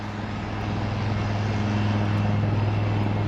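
An HAL Prachand light combat helicopter in flight, a steady, loud mechanical drone with a strong low hum and constant broadband roar, unbroken throughout with no voices.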